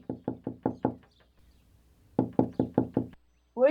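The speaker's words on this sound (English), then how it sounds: "she heard a knock on her door" Two bursts of five sharp knocks on a bedroom door, loud and close, separated by a short silent pause, with a brief voice starting right at the end.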